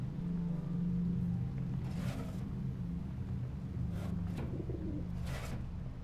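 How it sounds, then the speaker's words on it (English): Pigeon cooing in the video game Observer, a low soft coo early on over a steady rumbling ambience, with a few faint brief higher sounds later. "I hear a pigeon."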